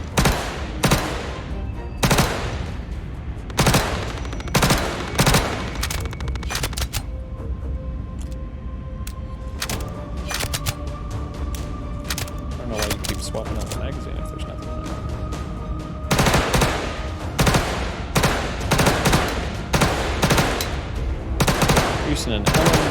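Rapid light machine gun fire in a video game, dense automatic bursts crackling almost continuously over about twenty seconds, loud and close, with a brief lull in the middle and game tones underneath.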